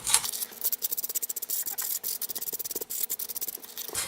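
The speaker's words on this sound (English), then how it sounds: "take a piece of sandpaper and just sand it up, distressing it" Paper being roughened by hand with sandpaper for a mixed-media Valentine card, a quick series of close, soft scratchy rubbing strokes in an even back-and-forth rhythm for about four seconds.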